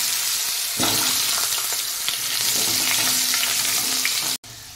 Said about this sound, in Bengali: আলুগুলো এবার আমি লাল করে ভেজে নেব।